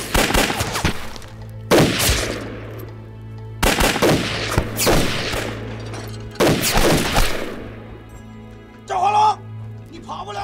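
Gunfire erupts in several heavy bursts of rapid shots during a battle between soldiers near tunnels, loud and close with echoing tails, separated by short pauses, followed by a brief shout.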